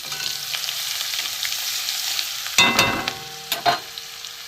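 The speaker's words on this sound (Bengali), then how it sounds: "রসুনটা ভাজা হয়ে গেছে" Grated garlic frying in hot oil with whole spices like cardamom and cinnamon, a steady close sizzle broken by two louder bursts of stirring near the end.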